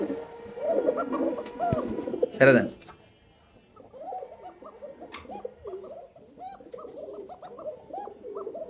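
Pigeons on a pigeon farm coo softly and repeatedly at close range after a brief burst of talking and a loud rustle.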